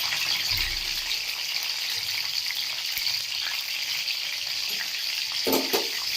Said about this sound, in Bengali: পটলটা আমি তেলের মধ্যে দিয়ে দিচ্ছি এবং লাল লাল করে ভাজা করে নেব